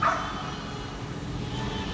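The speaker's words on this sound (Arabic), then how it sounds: "شوف هاد الكلب" A dog left inside a parked car barks and yips, faint and muffled, with a sharper yelp at the start over a steady low background hum.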